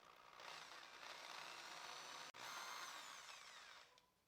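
A hand drill with a very thin 1.5 mm bit boring at an angle into the corner of a piece of old wood, a continuous close whirring grind with one brief pause midway, then tapering off, with no talk.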